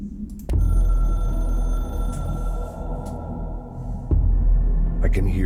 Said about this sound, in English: I can hear the hotline ringing in my dreams, constantly ringing.